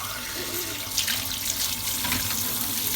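Tap water runs into a sink as dishes are washed, a steady, close gushing and splashing that shifts a little as hands move under the flow, with no talking.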